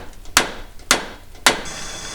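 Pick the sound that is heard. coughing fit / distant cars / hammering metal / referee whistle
hammering metal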